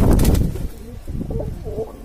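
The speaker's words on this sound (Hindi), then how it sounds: "ये अपने पास 32 कबूतर है बॉर्डर वाले" Indian border breed pigeons coo in low, rolling phrases, loud and close at the start and then softer with short pauses, with no talking over them.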